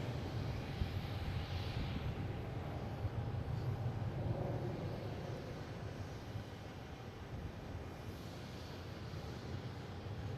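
An airplane roars steadily at Boston Logan International Airport, a broad, rumbling engine drone that stays constant and moderately distant throughout with no voices.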